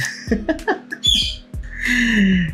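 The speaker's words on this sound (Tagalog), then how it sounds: "ingay ng ibon." A bird squawking and chirping loudly up close, harsh calls in quick succession ending in a drawn-out screech.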